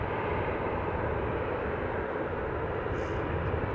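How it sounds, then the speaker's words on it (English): Ryanair Boeing 737-800 bound for Dublin rolls onto the runway at Manchester Airport, a steady, even engine rumble holding at moderate level throughout with no break or change. "just about to enter the runway, we've got Ryanair, which is going to Dublin, Boeing 737-800"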